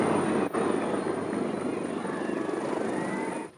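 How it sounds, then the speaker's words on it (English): A Westpac rescue helicopter comes in to land on a public school playground, its rotor and engine a loud, steady roar that holds for several seconds and then cuts away. "The Westpac rescue helicopter coming in for landing."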